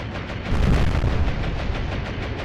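Bombs exploding on warships in the naval strategy game Atlantic Fleet, a loud rumbling blast that swells around the middle and rolls on as a continuous heavy roar, with no talk.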